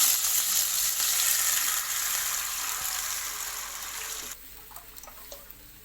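Wheat flour frying in ghee for godhumai halwa, a bright crackling sizzle that fades gradually before dropping off abruptly, leaving a few faint scrapes of stirring.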